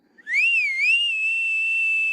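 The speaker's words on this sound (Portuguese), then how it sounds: "Levou os dedos à boca e assobiou, como se chamasse um cão." A loud, piercing two-finger whistle from an audiobook scene, rising quickly and wavering before holding one steady high note for nearly two seconds, close and alone.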